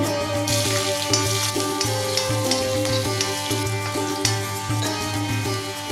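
Small onions frying in coconut oil with mustard seeds and urad dal for a capsicum chammanthi tempering, giving a steady close sizzle with light stirring taps and a faint tonal hum beneath.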